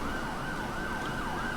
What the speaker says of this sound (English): There's sirens everywhere.